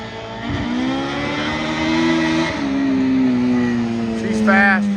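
A race car engine hums and revs while driving, pitch rising and falling through gear changes, with a voice speaking over it near the end.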